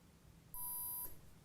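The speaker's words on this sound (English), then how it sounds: "when I plug this in and you hear a beep from the motor, that motor is now reversed and the setting is saved." A single clean electronic beep from a Durafly brushless motor driven by its ESC, confirming a reversed-rotation setting has been saved; the tone is steady, close and lasts about half a second over faint background hum.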